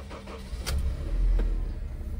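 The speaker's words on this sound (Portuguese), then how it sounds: "Deixa eu ligar o carro." A 2008 Honda Civic EXS is started, with a brief starter whir followed by a low engine rumble that rises and settles into a steady idle, close inside the car, with no talking.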